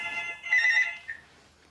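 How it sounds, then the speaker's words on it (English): A telephone rings with a bright electronic ringtone: one sustained tonal trill followed by a shorter chirp, clear and fairly close against quiet surroundings. "knowing that the phone was ringing, but I couldn't answer it."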